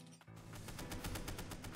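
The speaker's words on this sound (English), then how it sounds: "He's shooting at me!" Rapid, loud gunfire in the video game Ender Magnolia, a steady run of closely spaced shots after a brief gap, with no voices.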